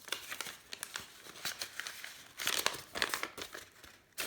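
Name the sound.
opening a handmade card envelope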